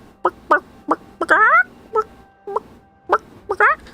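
A voice actor imitates a chicken's squawking, a string of short, loud clucks and gobbling squawks in an irregular rhythm, close and alone.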